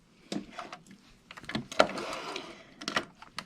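A sewing machine stitching back and forth on a lace face mask, giving short bursts of quick mechanical whirring with pauses between them, close and fairly quiet.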